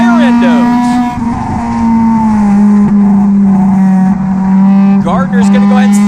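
Stock cars race three wide at Irwindale in a NASCAR Division III Enduro, their engines droning loud and close in a steady, sustained roar with shifting pitch, while an announcer calls the action over them.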